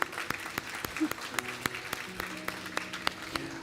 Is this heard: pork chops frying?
no